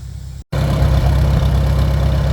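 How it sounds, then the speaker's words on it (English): An old Farmall tractor engine cuts in after a brief gap and settles into a loud, steady, rumbling idle close by, with no talking. "And then we'll fire the tractor up."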